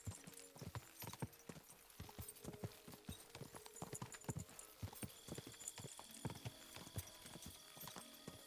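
Horse hooves clip-clop steadily in Kingdom Come Deliverance, a brisk, even run of close hoof strikes at a moderate level, with no talk over them.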